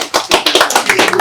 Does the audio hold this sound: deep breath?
no